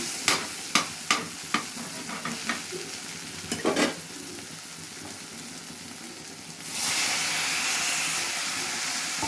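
Tomatoes go into hot oil for a brinjal tomato curry. A series of sharp clanks and stirring taps comes first, then a loud steady sizzle of frying takes over for the last few seconds.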